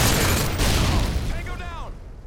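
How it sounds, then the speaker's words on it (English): A flashbang grenade goes off in the video game Modern Warfare 2: a loud, dense blast fills the opening moments, followed by fading noise and a brief, wavering whine before it dies away. "Tossing a flashbang!"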